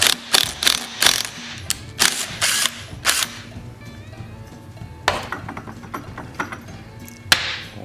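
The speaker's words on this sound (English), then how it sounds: "Now we're gonna pull the flywheel. Got 11/16 socket here for that nut." A socket wrench ratchets on the flywheel nut of a 1956 Eclipse Wasp chainsaw, bursts of sharp clicking repeated in quick runs with pauses between, close and fairly loud.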